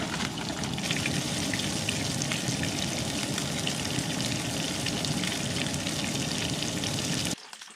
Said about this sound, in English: We got some oil frying with some garlic still in there from earlier today.